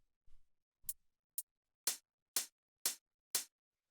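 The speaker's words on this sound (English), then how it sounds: "After that, we have the hi-hats, which sound like this." Two 909 hi-hat samples tick on the upbeats in a micro house beat, a few faint soft ticks first, then a steady run of crisp, bright hits, quiet and alone.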